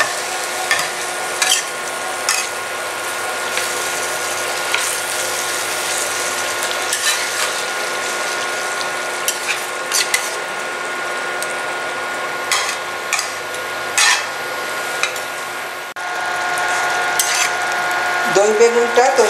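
Eggplant in yogurt sauce with plenty of separated oil is stirred in a pan on an induction cooker, a close steady sizzle broken by repeated scraping and clicking strokes of a spoon along the bottom.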